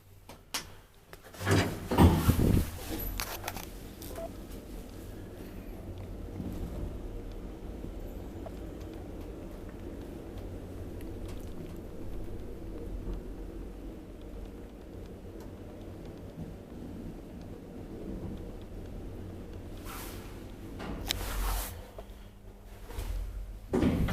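An old Kone roped hydraulic elevator, finished around 1993, serves four floors of a residential building in Nälsta, Stockholm. Loud door or mechanism clunks open the run, a faint steady hum follows during travel, and more clunks come near the end.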